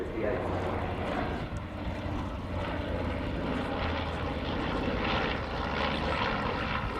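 Piston engines of a North American B-25 Mitchell bomber drone at the Royal International Air Tattoo air show, a steady, rumbling propeller roar that fills the whole stretch without a break.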